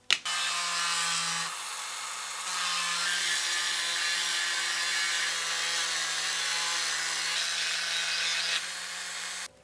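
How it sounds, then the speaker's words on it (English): A high-pitched Dremel rotary tool whines continuously, carving a notch into wood with a steady gritty hiss and slight shifts in pitch as it cuts. "Now I'm going to take a Dremel tool, carve out that little notch."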